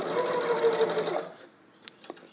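A sewing machine runs in a quick, even burst for over a second while stitching off the edge of a dart on a test mask, then stops, leaving a couple of faint clicks close by.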